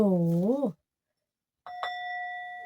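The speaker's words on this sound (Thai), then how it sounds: "ขออนุญาต กดกระดิ่งเลยนะคะ" A doorbell-style chime sound effect rings out after a brief pause, a clear struck tone that holds and sustains steadily, following a voice that stops just before it.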